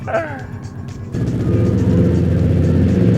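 A Subaru Legacy BG5 GT running with no exhaust, only a downpipe, gives a loud, raw, rumbling engine note. It swells into a steady, harsh drone partway through, close up, with some voice activity early on.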